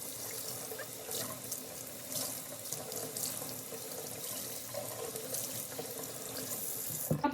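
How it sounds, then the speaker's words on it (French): Lukewarm water runs steadily from a tap into a kitchen sink while freshly dyed wool is rinsed beneath it, a continuous close hiss and splash with small shifting surges throughout. "Je vais venir la rincer une première fois à l'eau tiède."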